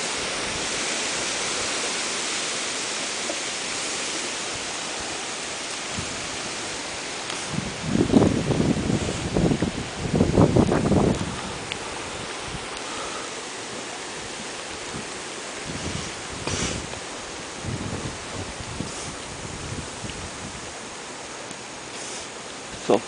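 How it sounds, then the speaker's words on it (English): Strong wind from Tropical Storm Isaac roars as a steady broadband rush, swelling into louder buffeting gusts around the middle before settling back to a constant blow, with no talking. "the wind is blowing like crazy"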